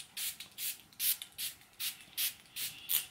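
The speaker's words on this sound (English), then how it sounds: "So let's just spray Mother Mary" A handheld spray bottle misted in a quiet room during a guided meditation, giving about eight short, evenly spaced hissing spritzes, each a soft airy burst with no voices alongside.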